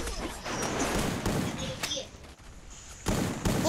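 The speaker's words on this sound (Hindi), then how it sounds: "ये बम कैसे फोड़ रहा है तू?" Bomb blasts and gunfire from Garena Free Fire's zombie mode burst repeatedly and loudly in dense, chaotic bursts, with excited players talking over the game action.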